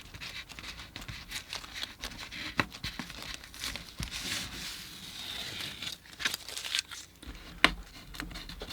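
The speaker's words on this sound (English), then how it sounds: "So I'll just take the tape and peel it off here." Masking tape is peeled slowly off watercolor paper, giving a drawn-out crackling, ripping texture with scattered sharper ticks and pops, close and fairly quiet, alone throughout.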